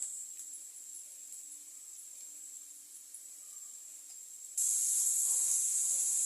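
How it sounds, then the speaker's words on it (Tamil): Onions sautéing in hot oil with salt and asafoetida give a steady high sizzle that jumps abruptly louder partway through and then holds, with no talking. "வெங்காயம் வதங்கட்டும்."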